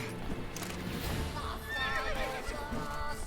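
Horse whinnying in The Witcher video game, a rising neigh near the middle over clip-clop hooves and busy game sounds.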